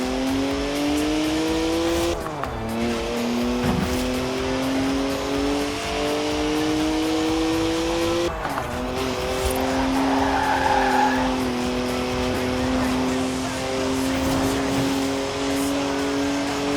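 A BMW drifts in Forza Horizon 4 with a steady engine drone and continuous tire squeal, loud and close, and the pitch dips briefly twice as the car shifts gears or changes throttle.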